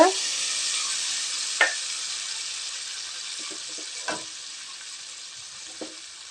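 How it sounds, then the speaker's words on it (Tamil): Lemon juice poured into a hot chilli tempering for lemon rice, giving a loud, continuous sizzle with a few sharp spatters and stirring clicks, with no talking. "எலுமிச்சை பழம் சாறு இதில் ஊற்றிக்கலாங்க"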